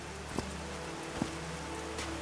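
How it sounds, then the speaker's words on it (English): Steady, soft patter of rain in the game Call of the Sea falling on a surface, a continuous hiss with a few faint individual drops standing out. "These drops of rain are so refreshing."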